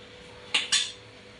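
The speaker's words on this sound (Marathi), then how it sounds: "याच्यावरती मला झाकण मारून ठेवायचं आहे" A lid is set onto a cooking pot of dried shrimp curry with two quick, close metallic clanks in succession, each ringing briefly before fading into a quiet room hum; no one speaks.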